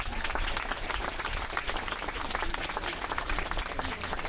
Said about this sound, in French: Je propose qu'on les applaudisse, tous ces gens